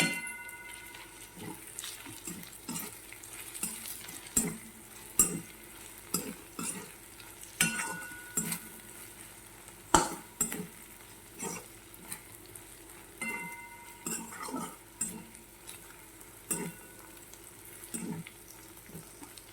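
Close, steady frying with repeated spoon scrapes and clanks against the pan as garam masala is stirred into okra with green chilies, a rhythmic pattern running throughout.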